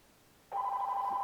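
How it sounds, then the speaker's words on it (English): After a moment of quiet, an electronic telephone ring from a Google Voice call starts abruptly and holds as a steady tone. "so you hear it ringing"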